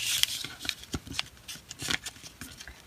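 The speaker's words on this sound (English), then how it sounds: "fold it like that, and then turn it around, and then fold the sides in" Paper creased and folded by hand into an origami necktie heart: close, crisp rustles and sharp crackling snaps in quick uneven bursts.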